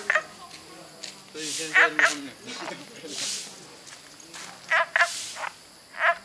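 Günther's frogs croak during mating as two of them chase each other, both calling: repeated short croaks in bursts over several seconds, with a person's voice audible faintly in the background.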